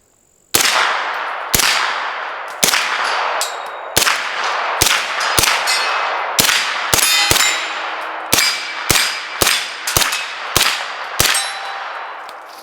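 An MP5 submachine gun fires its last rounds as a steady string of about fifteen sharp, loud single shots spaced roughly half a second to a second apart, each ending in a metallic ring, with no talking.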